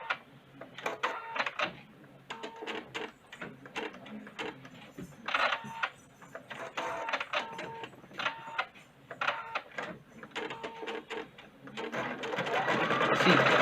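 A Husqvarna Viking Designer Brilliance 80 sewing machine stitches in repeated mechanical bursts with brief pauses between them, close and moderately loud, and a faint voice can be heard between runs.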